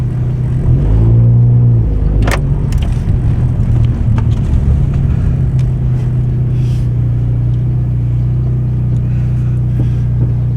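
A 10th generation Honda Accord driving down a road, giving a steady low engine and road rumble with wind noise, continuous and close throughout, with a brief louder surge near the start and no talking.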